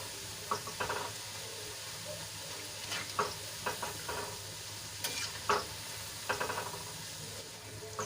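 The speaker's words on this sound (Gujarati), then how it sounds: "તો આપણો બધો નાસ્તો તળાઈને તૈયાર થઈ ગયો છે" Gram flour snack deep frying in hot oil, a steady low sizzle with scattered crackles and pops, alone and fairly quiet throughout.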